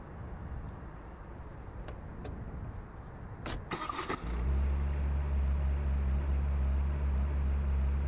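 A car engine cranks and catches in a Turkish GTA-style video game, preceded by a few scattered clicks; once running it settles into a loud, steady low idle rumble that holds to the end.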